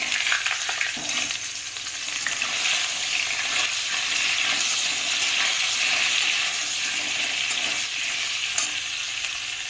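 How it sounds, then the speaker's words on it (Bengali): Cut cauliflower and potatoes fry in hot oil with whole spices in a pan, giving a loud continuous sizzle with occasional scraping stirs throughout. "আর এই কেটে রাখা ফুলকপি আলু দিয়ে দিলাম।"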